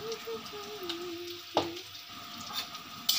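Bitter gourd frying in oil with ginger and turmeric gives a steady low sizzle, broken by a sharp utensil knock partway through and another at the end, with faint background noise.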